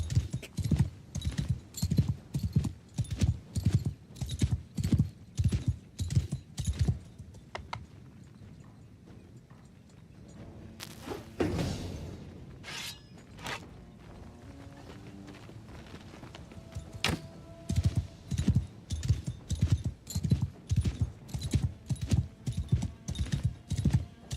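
Rhythmic horse hoofbeats clip-clop at a steady trot, pausing briefly midway amid some scraping noises, then resuming the brisk, even beat, in a video game with the Old Realms mod.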